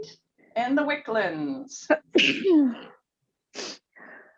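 A single sharp sneeze breaks out near the end of an online group meeting, following a stretch of close-miked talking.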